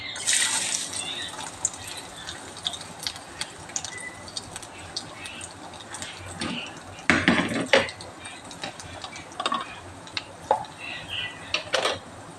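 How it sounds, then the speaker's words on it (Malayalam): Coconut pieces roast in ghee in a pan for a payasam, a low steady sizzle with sharp metallic clinks and scrapes of a spoon against the pan, louder bursts of stirring partway through, and no voices. "നമുക്ക് ആദ്യം തന്നെ നമ്മുടെ തേങ്ങാക്കൊട്ടിട്ട് വറക്കാം"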